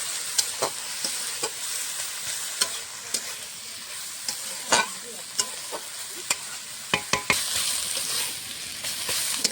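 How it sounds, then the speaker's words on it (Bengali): Data greens frying in a pan are stirred with steady sizzling underneath and repeated sharp scrapes and knocks of the utensil at an irregular pace, fairly close and with no talk. "ঢাকনাটা খুলে নেড়ে নেড়ে দেবো।"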